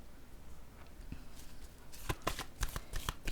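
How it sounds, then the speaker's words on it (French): A tarot card is set down on a table with a few soft, close taps and slides after a quiet pause. "Je vais déposer une carte ici."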